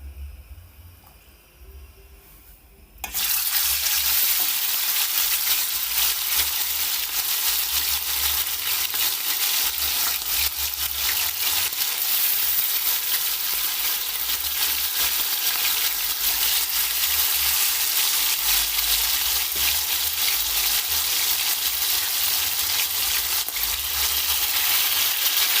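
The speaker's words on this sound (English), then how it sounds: "Now I'm gonna fry my chicken." Chicken pieces frying in hot oil in a pot for Jamaican brown stew chicken, a loud, steady, continuous sizzle that bursts in after a quiet start and holds with no talk.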